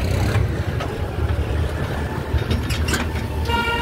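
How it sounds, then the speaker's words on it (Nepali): A tractor engine drones continuously during a ride from Halesi toward Arkhaule in Khotang, a loud, close, rumbling low hum with rattling overtones and no voices. "ट्र्याक्टरमा"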